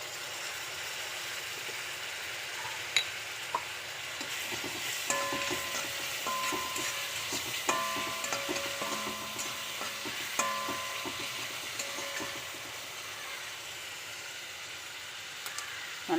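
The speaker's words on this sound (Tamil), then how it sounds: "இஞ்சி பூண்டு பேஸ்ட்டும் போடுறேன்." Ginger garlic paste sizzles in a pan with tomato while a spoon stirs and scrapes it, a steady soft frying hiss broken by occasional clinks of utensil on metal, close and moderately quiet, with no talking.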